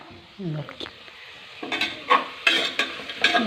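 Chopped tomatoes are stirred in a pan for chicken curry, with scraping spoon-on-metal clatter and a light sizzle. The stirring builds to several sharp knocks, and a voice is briefly heard near the start.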